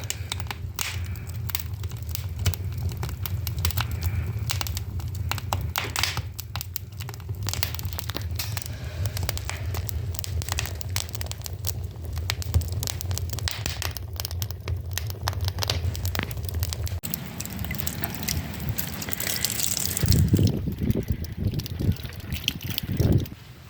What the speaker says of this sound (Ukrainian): Як я люблю цей звук потріскуючих дров.